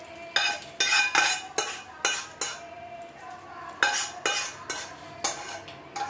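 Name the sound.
taking Mathura peda mixture out of the pan onto a plate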